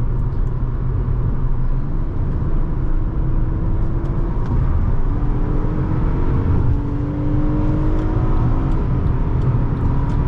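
Cabin of a 2010 Honda Accord EX-L V6 on the move, filled with a steady rumble of road and engine noise and rising engine tones as it accelerates, with no talking.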